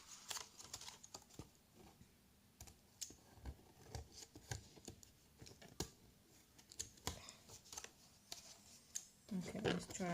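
Quick snipping clicks from scissors cutting an adhesive sheet, short sharp strokes in an uneven rhythm, fairly quiet and close.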